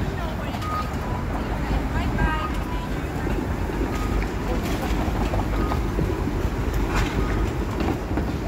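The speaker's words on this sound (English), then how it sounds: "There's a streetcar. It's a modern streetcar there." A modern streetcar passes along a busy downtown Toronto street, a steady loud rumble of rail and traffic noise running throughout, with a voice talking over it.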